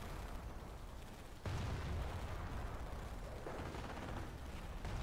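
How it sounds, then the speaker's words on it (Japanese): A satchel charge detonates in the Company of Heroes video game during a Normandy Omaha Beach battle, a sudden loud blast followed by sustained rumbling debris and battle noise. "この拠点梱包爆弾で撃破しておきたいと思います"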